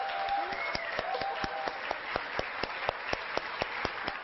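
Studio audience on a Turkish reunion TV show applauding as a father arrives, steady dense clapping with a regular rhythmic beat, moderately loud, with faint music tones underneath.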